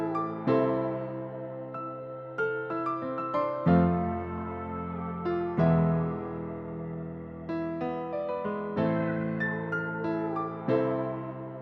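A dark piano melody built in FL Studio plays alone, with layered, sustained chords and scattered high notes struck in a slow, moody rhythm at moderate loudness.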